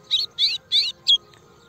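A female red-cowled cardinal (galo-de-campina) calls from hidden cover, giving four short, clear, high chirped notes in an even rhythm, the last one briefest, followed by quiet.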